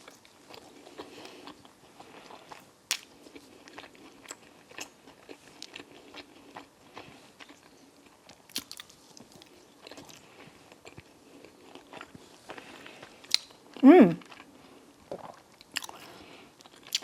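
Wingstop chicken wings in Korean-style sauce being eaten close to the mic, soft bites and chewing with sticky smacks and a few louder crunches, fairly quiet with no talking.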